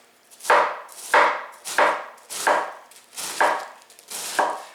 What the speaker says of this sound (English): Then I'm going to just shred it with a knife.